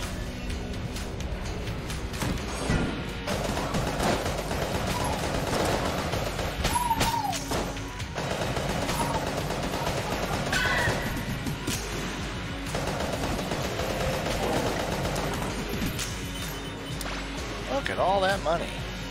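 Carbine fire in Enter the Gungeon, a rapid, continuous chatter of shots with crashes, layered under a player talking over game music.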